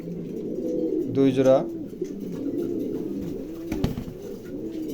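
Maltese pigeons give a short, fairly close burst of cooing under steady talk, with a low murmur of birds continuing in the background.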